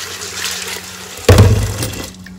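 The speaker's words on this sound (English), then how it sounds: "we rinse them off and then drain them" Dry black beans being rinsed, with a low hiss of running water followed by a sudden splashing rush and sloshing that fades out within a couple of seconds.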